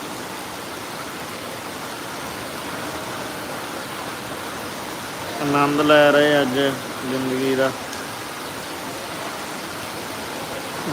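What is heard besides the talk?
heavy rain falling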